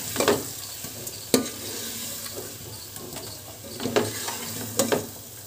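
Fried onion being stirred into fried potatoes in a pan for aloo dum biryani, with a steady soft sizzle under several sharp spoon scrapes and clicks spaced a second or so apart.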